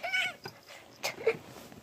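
A kitten named Mia gives a short, quiet meow near the start, followed by faint soft sounds and small rustles, close and brief.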